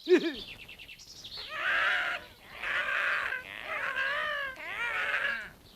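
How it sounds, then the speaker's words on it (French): Cartoon crows arriving in a Viking animated series, a run of harsh, nasal caws in several drawn-out bursts, fairly close and clear with short gaps between calls. "nous attendrons que les corneilles arrivent"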